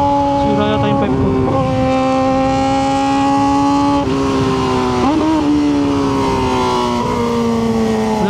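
Kawasaki ZX4RR motorcycle with a damaged exhaust pipe at a racetrack, its engine holding a loud steady drone with brief dips and rises in revs, close up and continuous with no other sounds over it.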